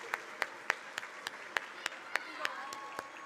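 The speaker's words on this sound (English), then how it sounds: "can we have one final round of applause for these kids and all of our" A small audience gives a sparse, steady round of clapping for elementary students at a school board student recognition ceremony, with distinct, evenly spaced claps that stay fairly faint and distant.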